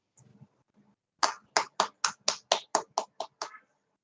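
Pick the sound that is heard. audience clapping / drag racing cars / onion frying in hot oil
audience clapping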